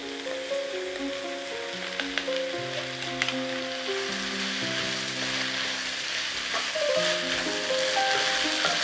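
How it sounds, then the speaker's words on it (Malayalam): Washed biryani rice roasting in a pan over a medium flame for vegetable pulao, giving a steady close sizzle with scraping stirs, while a soft melodic tone line of background music runs underneath. "അതും നന്നായിട്ട് ഇതുപോലെ ഒന്ന് മീഡിയം ഫ്ലെയിമിൽ ഇങ്ങനെ റോസ്റ്റ് ചെയ്തെടുക്കാം"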